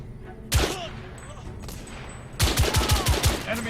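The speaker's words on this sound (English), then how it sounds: "So it's like a machine gun." Automatic rifle fire in the steampunk shooter The Order: 1886, with a single sharp shot followed later by a rapid burst of about six loud, close rounds, heavy low thumps over background game ambience.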